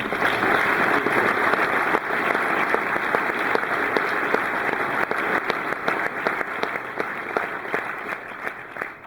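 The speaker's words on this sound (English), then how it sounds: "give me a round of applause for Ramsey McMaster." Sustained conference audience applause, a dense wash of many hands clapping continuously for about nine seconds at steady loudness, tapering slightly toward the end.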